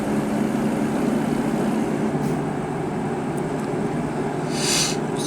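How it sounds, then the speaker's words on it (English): A train passes in the American Truck Simulator video game, heard as a steady, fairly loud low rumble that holds throughout with no talk over it. "I hear a train, but I don't think I'll see it."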